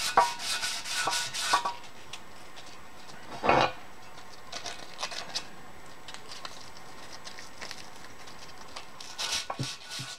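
Someone rubs corrosion off a generator surface by hand, making scratchy, rasping strokes in quick bursts at the start, a single sharper scrape midway and another flurry at the end, with quieter rubbing in between.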